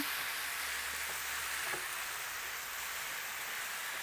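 Onions fry on a low flame for mutton curry, giving a steady, even sizzle with faint stirring scrapes partway through.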